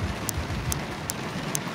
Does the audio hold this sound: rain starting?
yes